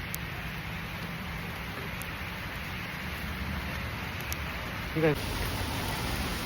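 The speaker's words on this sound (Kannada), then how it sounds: "ಮಳೆ ಬಳೆ ಬಳೆ ಮಳೆ ಬಂದ್ರು ಬಿಡ್ತೀರ ಮ್ಯಾಚ್ಗಳು." Rain falling steadily during a friends' cricket match, a constant soft hiss of drops on surfaces throughout, with a brief spoken word and a small clatter near the end.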